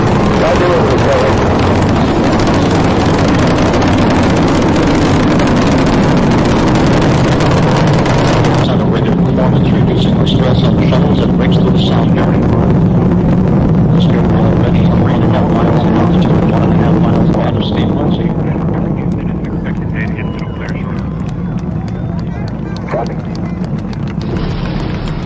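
Space Shuttle Discovery lifting off on a mission to the space station, a loud sustained rumbling engine roar filling the clip with broadband noise, while a commentator's voice talks over it throughout.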